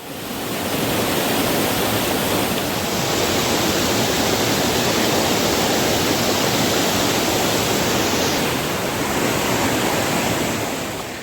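A stream flows at Kadavupuzha waterfall in Kottayam, Kerala, a loud, steady rushing of water that fills the whole scene without any speech.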